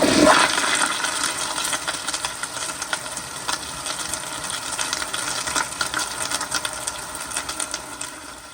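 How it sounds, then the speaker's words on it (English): A 2007 Kohler Wellcome toilet flushes with a loud initial gush that settles into a steady, rushing swirl of draining and refilling water, heard alone for over eight seconds. "So here is another flush."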